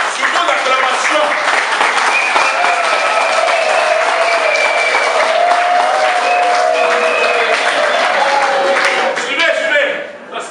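A wedding party claps and cheers at a civil ceremony before the mayor, dense sustained applause from a crowd with voices mixed in, fading out near the end.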